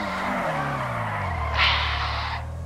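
A truck in GTA V drifts with a long, loud tire skid and squeal over a descending engine roar, a brief higher screech in the middle, close and continuous with no speech.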